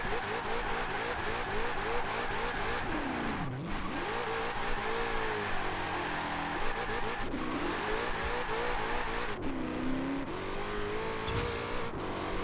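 A 2020 Shelby GT500 engine in Forza Horizon 4 revs hard and steadily, pitch rising and dropping sharply at each of several gear shifts or lifts, loud and close with occasional tire squeal.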